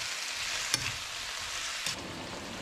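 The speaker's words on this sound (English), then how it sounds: "Sprinkle some salt and give it a mix." Tomatoes with salt being mixed in a hot pan, a steady sizzle with two brief scraping stir strokes, close and alone.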